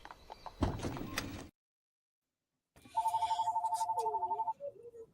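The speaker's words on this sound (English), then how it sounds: "I have this landline that my mom insists on fucking having it be ringing" A landline telephone rings in a room, a steady repeated electronic trill heard near and fairly loud for about a second and a half after a brief pause, then fading into quieter background sounds.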